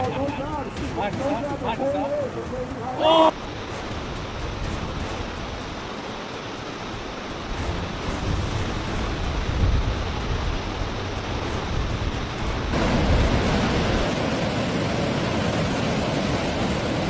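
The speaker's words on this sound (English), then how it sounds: "a fearless man dives in and rides a monstrous wave" Monstrous ocean waves surge and roar at Nazaré, a dense continuous rush of surf that swells louder toward the end, with a brief voice near the start.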